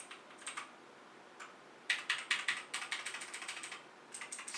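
Typing on a white LingYi mechanical keyboard with Outemu blue switches: crisp, clicky keystrokes come in short bursts and then a steady run, quiet and close with no talking.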